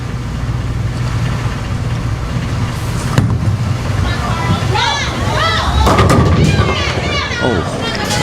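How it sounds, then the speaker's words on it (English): At a women's college bowling championship, a bowling ball strikes the pins with one sharp crash, leaving a pocket split. The crash cuts through steady arena ambience, and people talk in the background. "A pocket split. Good shot by Carlene."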